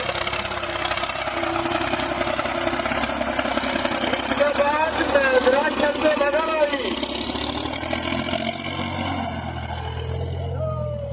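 A tractor engine labours loud and steady while pulling a harrow across a farm field, its rumble holding close and continuous, with a whining tone shifting over the top.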